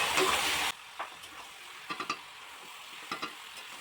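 Mutton frying in a pan gives off a loud sizzle at first, which then drops away to quieter frying as a utensil stirs and scrapes the meat in a few short, separate bursts.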